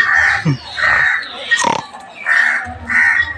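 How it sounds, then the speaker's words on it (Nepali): Pig grunts and squealing calls at a farm, several bursts in quick succession, close and fairly loud, with a couple of lower grunting snorts between them. "कस्तो सुँगुर पोर्क"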